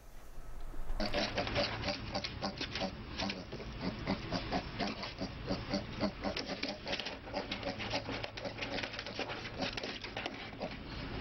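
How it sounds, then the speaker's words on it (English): A little pig grunts and oinks in a rapid, irregular series of snorts, close and fairly loud, continuing steadily throughout with a low rumbling background. "Adorable little pig."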